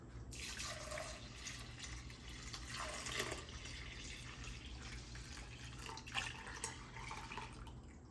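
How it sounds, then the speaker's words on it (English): Milk pours into a bowl of whisked yogurt starter for homemade yogurt, giving a steady, soft liquid trickle and splash that runs quietly and evenly throughout, with no talk. "And now add your milk."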